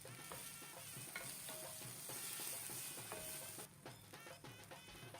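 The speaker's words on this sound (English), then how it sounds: "Saute the shallots with the olive oil." Shallots sizzle and fry in olive oil in a pan, a continuous close crackle broken by soft scraping stirs, with no voices.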